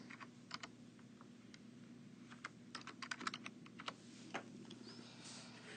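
Someone types on a computer keyboard at a steady, moderate pace, entering an equation into a graphing tool; the clicks are soft and close over a faint room hum, with no voices.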